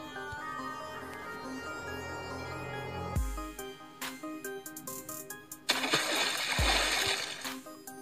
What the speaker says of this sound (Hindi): उस पानी का जो आवाज़ आता है उसका म्यूजिक आपको सेलेक्ट कर लेना है।